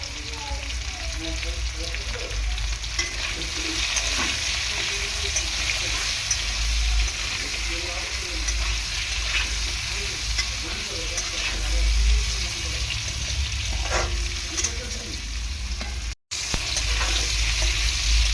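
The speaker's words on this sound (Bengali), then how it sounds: "আলুটাকে প্রথমে আমি একটুখানি লবণ আর হলুদ দিয়ে ভেজে নেব" Potato pieces frying with salt and turmeric give a steady, fairly loud sizzle that runs unbroken throughout, with faint stirring scrapes underneath.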